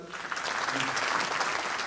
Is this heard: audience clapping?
yes